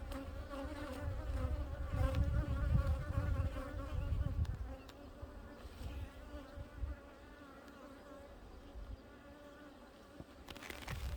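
Dense honeybee buzzing over an open hive frame during an inspection, a steady close drone that swells louder early on and then settles, with faint clicks of a hive tool.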